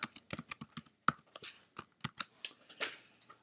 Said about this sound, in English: just type test only